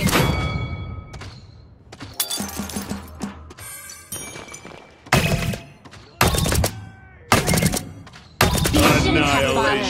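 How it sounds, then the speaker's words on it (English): Gunfire from enemies in the shooter game Paladins lands as loud, sharp bursts and thuds in quick clusters separated by brief gaps, with ringing game effects and a game announcer voice mixed in. "Enemies are firing on me."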